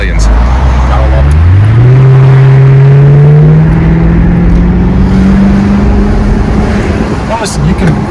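A 2012 Maserati GT Convertible engine revs up loud and close in sport mode, its exhaust note climbing and then holding a steady drone.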